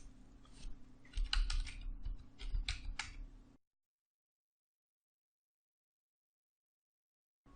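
Computer keyboard typing during terminal commands on a Linux system: a quick run of clicky keystrokes with a few louder key hits, close up, stopping after about three and a half seconds into silence.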